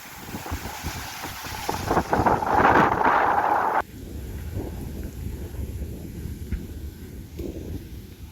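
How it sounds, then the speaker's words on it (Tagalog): Strong wind in a forest buffets the microphone in loud, roaring gusts, swelling to a peak then dropping abruptly to a steadier rushing blow. "Lakas talaga ng hangin."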